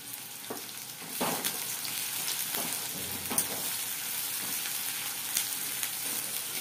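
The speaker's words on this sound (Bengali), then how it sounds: "এবার এটাকে একটু সুন্দর করে গোল্ডেন ফ্রাই করব" Sliced onions frying to golden in a pan for a pointed-gourd curry, a soft steady sizzle with periodic scraping clicks as they are stirred.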